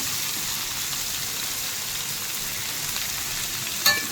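Okra fries and is stirred in a pan, producing an even, hissing sizzle close by, with a brief clink near the end.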